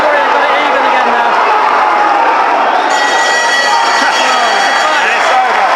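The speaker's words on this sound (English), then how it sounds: "The crowd has gone mental here" A loud, dense boxing crowd roars and cheers continuously at the end of a fight, with commentary running underneath.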